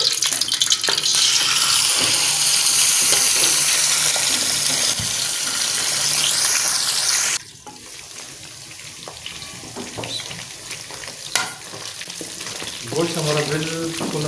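Beef frying in a kadai gives a loud, steady sizzle for about seven seconds, then drops to a quieter crackle with scattered clinks and a brief louder knock near the end.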